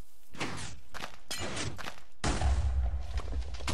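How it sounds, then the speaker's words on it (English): A Minecraft redstone cannon fires in the game, a sudden loud blast at mid-clip followed by a dense rumbling roar of explosions, after a stretch of sharp thumping and clattering impacts. "Explosion."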